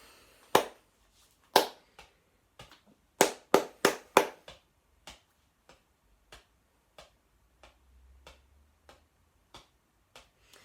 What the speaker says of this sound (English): Here is the rhythm which repeats. I'll clap it if you could copy it back.